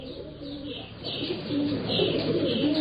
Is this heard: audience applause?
no